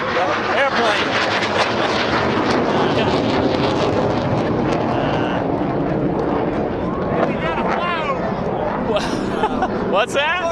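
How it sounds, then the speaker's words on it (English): Planes flying low over the Allstate Sugar Bowl parade make a continuous loud engine roar mixed with wind buffeting and crowd chatter, with people talking nearby throughout. "now we got a flyover. Georgia flyover. We got some planes flying over us."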